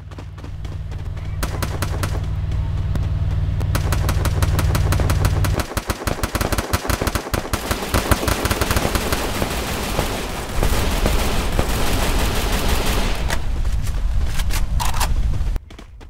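Rapid automatic gunfire from the video game Free Fire rattles in dense bursts, with gaps and repeated volleys over a low background hum.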